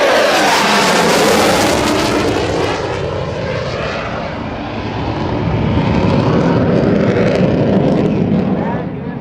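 A roaring F/A-18C Hornet jet makes a low 500-foot carrier-break pass at an air show demonstration, its loud, swelling engine noise sweeping past and fading slightly before building again, with a commentator talking over it.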